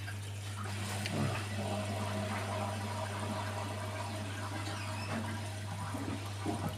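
Washing machine on its rinse cycle, a steady low hum with churning water washing over it, continuous and close with no pauses.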